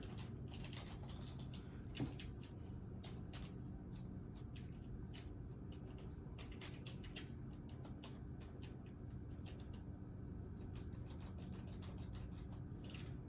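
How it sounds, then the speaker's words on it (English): Keys on a computer keyboard tapped in short, scattered bursts of faint clicks over a steady low hum in a network lab setting, with no speech. "if I type characters into here"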